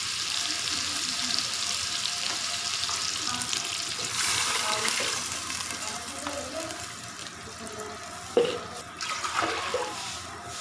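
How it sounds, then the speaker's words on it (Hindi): Water pours and sizzles into a hot pan of tempered moong dal khichdi, a continuous hiss and splash, with a few clinks near the end. "अब इसमें एक बाउल मैंने चावल का लिया था और दो बाउल पानी डालूंगी।"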